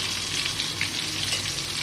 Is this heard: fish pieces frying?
yes